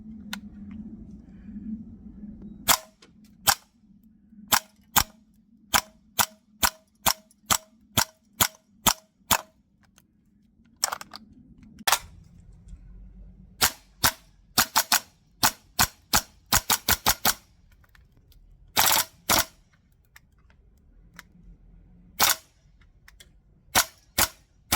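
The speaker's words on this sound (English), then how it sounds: "let's show you that intro again, just to show you it firing." VFC MP5K PDW Gen2 gas blowback airsoft rifle firing, a long series of sharp, loud cracks in single shots and quick bursts with irregular gaps, close and alone.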